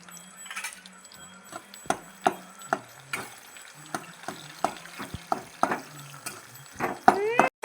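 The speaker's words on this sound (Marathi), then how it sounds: "जिरे मस्त ही झालेली आहे भाजलेली आहे कांदा टाकून द्यायचा आहे" Onion goes into hot oil with toasted cumin for a Marathi kantoli (spiny gourd) dish, frying under a series of sharp, rhythmic spoon taps and scrapes against the pan, close and fairly loud.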